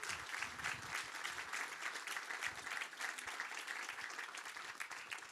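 Steady applause from a crowd in a hall at a political public meeting, many hands clapping evenly at moderate distance and sustained throughout.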